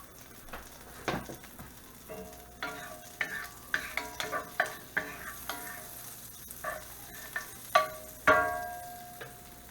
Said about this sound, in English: We'll throw our butter in. Melt that up till it's foamy.